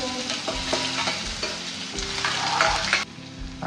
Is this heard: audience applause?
no